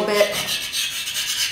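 Scraping and smoothing the edges of an archaeological sample with a hand tool, a steady close rasping rub that runs continuously with no talk over it.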